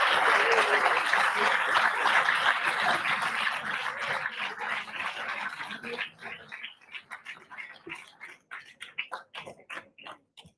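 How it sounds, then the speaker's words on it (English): Audience applause welcoming a speaker at an international workshop on sustainable practices for industrial pollution: dense, loud clapping from a crowd that thins out into scattered individual claps before fading. "Please join your hands in giving him a round warm of applause"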